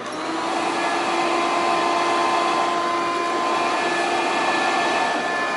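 A vacuum cleaner runs close and loud with a steady, unbroken whine and airflow roar, starting up at the beginning and holding constant throughout.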